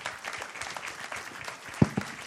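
A conference audience at the 2013 national biomass colloquium claps for the round-table participants in a short burst of dense applause, with a couple of louder claps near the end.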